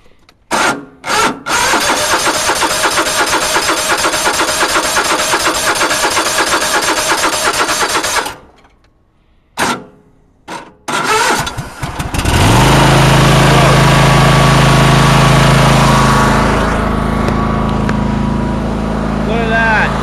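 A Troy-Bilt race tractor engine cold-started on full choke cranks loudly in long bursts, sputters and stops, cranks in short tries, then catches and settles into a steady, close idle.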